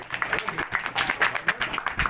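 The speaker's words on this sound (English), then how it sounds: "Okay, clapping." Clapping from a crowd at a retirement party, a steady patter of hands mixed with voices and background music.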